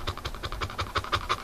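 A pet dog pants heavily in a bathroom in the middle of the night, with quick rhythmic breaths repeating steadily at close range and no talk over them.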